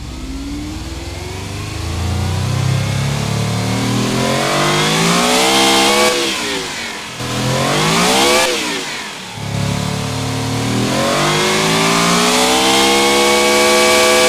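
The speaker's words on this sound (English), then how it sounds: "it's a decent sounding engine" A 2020 hypercar engine in BeamNG revs hard and loud, climbing through rising harmonic sweeps, dropping briefly twice around the middle, then building again into a sustained high-pitched wail.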